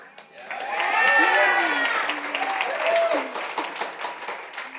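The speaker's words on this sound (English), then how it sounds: "Now that you've all applauded her" An audience at a talk applauds together, a steady wash of clapping under a voice speaking over it, fairly close and moderately loud.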